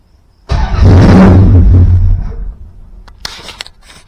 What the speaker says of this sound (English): with the car in park, I'm going to try and see if it'll crank